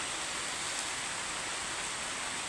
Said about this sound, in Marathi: आता पाऊस बी लय मोठा आलाय. हे बघा कसला पाऊस पडायला लागलाय.